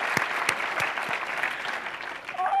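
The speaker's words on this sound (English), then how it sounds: "No, let's applaud." Audience applause following a global health speaker series talk, steady clapping from a sizeable crowd lasting the whole stretch, with a few sharper claps standing out and a brief voice near the end.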